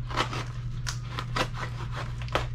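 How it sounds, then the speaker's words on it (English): Knife slicing through packaging tape and plastic to open a fan mail parcel, a run of short scraping cuts in quick succession over a steady low hum, close to the listener. "I'm gonna have to cut it free."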